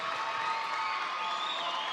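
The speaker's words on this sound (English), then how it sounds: "Angelique Leno is making this crowd go crazy." A high school volleyball crowd in a gym roars and cheers loudly and continuously after an ace serve.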